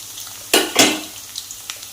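Onions hit a pan of hot oil with two sharp bursts of sizzle, then quieter frying with a few light clinks of a utensil against the pan.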